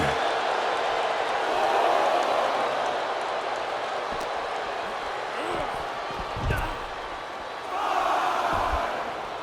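Arena crowd in the WWE 2K25 wrestling game roars steadily throughout, swelling at the start and again near the end, with a few thuds and slams underneath while a commentator talks over it.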